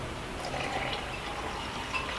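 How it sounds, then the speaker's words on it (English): Water is poured into a mason jar, giving a soft, continuous trickling and filling sound at moderate distance, fairly quiet and steady. "And then I'm going to pour my water in there."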